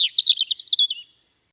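A quick run of high, piping chirps from a single water rail, about a dozen notes in a rapid rhythm that fade out after a second.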